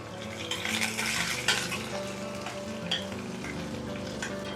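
Onions sizzling in hot oil with mustard seeds, fenugreek, green and red chillies and curry leaves for a pumpkin jaggery sambar, a steady close frying hiss broken by scattered stirring clinks, with no talking.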